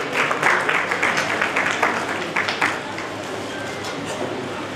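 A crowd at a Bikaner city foundation day ceremony claps steadily for a welcome, dense applause that swells then tapers under a faint amplified hum.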